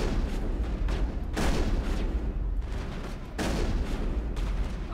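Gunfire in the Mass Effect video game, heavy bursts of shooting and impacts recurring across the span, loud and dense with no talking.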